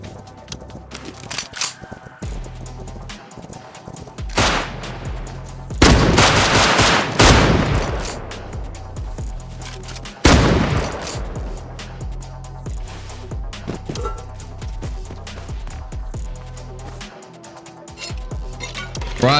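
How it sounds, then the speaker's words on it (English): Video game Rust gunfire: loud bursts of automatic shots crack in clusters, with sharp single reports between, some close and intense, others more distant, over steady background game ambience. "I could hear gunfire coming from around my base."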